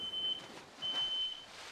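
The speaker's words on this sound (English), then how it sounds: "Sorry about the beeping, friends." Faint electronic beeping sounds in the background, two thin sustained tones separated by a short gap, over a quiet room.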